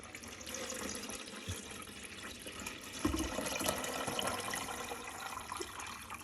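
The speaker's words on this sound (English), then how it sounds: "This is how you put the water in." Water is poured into the tank of a Breville Barista Express BES870BSX espresso machine, producing a steady, close trickle and splash of liquid that continues throughout with small bumps along the way.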